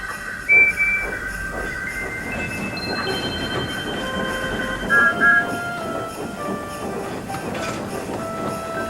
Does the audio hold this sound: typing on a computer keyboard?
no